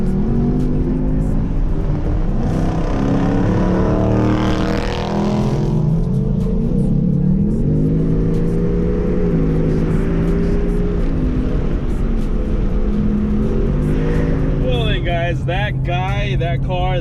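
A Dodge R/T Scat Pack with a loud aftermarket exhaust drives past on a street, its deep engine roar rising and falling as it revs by nearby, with a person talking over it.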